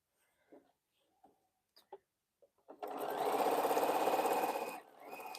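A sewing machine sews quilt rows together, running in one loud, steady, rapid burst after a few faint clicks and taps, then easing off briefly before continuing.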